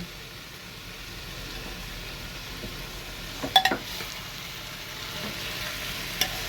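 Shredded cabbage sautés in a pressure cooker, a soft steady sizzle underneath with a brief cluster of metallic spatula clinks and scrapes near the middle and one more toward the end.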